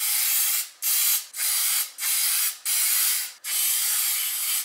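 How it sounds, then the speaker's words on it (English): Pam Perfect Release baking spray greasing ramekins in short hissing bursts, about six sprays in quick succession, close and fairly loud. "The first thing I'm going to go ahead and do is grease all my ramekins, and I always use this Pam Perfect Release baking flour."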